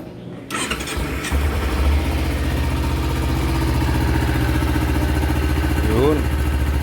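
A motorcycle engine just after an oil change, starting up and then settling into a steady, smooth mid-pitched idle that runs close and continuous, with a voice speaking briefly near the end.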